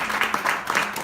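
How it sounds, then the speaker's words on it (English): Audience applause for Coach Hatcher at a Black History Month tribute reception, a steady wash of clapping from a crowd with repeated swells, no voices over it. "So give another round of applause for Coach Hatcher."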